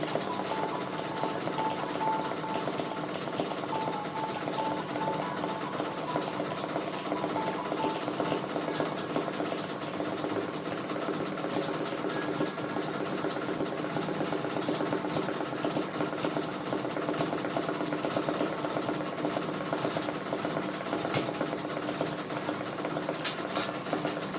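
Embroidery sewing machine stitching patches at 500 stitches per minute, a steady, dense mechanical whir with rapid needle chatter running continuously at constant level.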